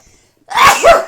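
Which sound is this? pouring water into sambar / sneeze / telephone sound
sneeze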